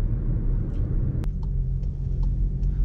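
Low, steady engine rumble from a SEAT Ateca 1.6 TDI diesel SUV moving slowly, with a faint tonal hum and occasional light clicks over the drone.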